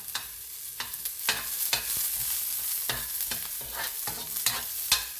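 A utensil scrapes and stirs tuna and potatoes in a frying pan, repeated clacking strokes over a steady frying sizzle, close and fairly loud.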